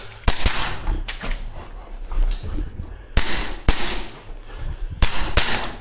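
A Tokyo Marui gas-blowback airsoft pistol fires at targets, giving sharp, close cracks in irregular pairs and singles with clattering impacts between them.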